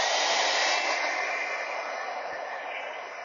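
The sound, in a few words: heat gun heating plastic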